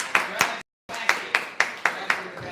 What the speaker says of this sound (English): Y'all clap for that, Brother Jay.